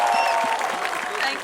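A crowd at a Max Bupa Walk for Health campaign event applauds Kangana Ranaut with a brief burst of sustained clapping, with some voices mixed in.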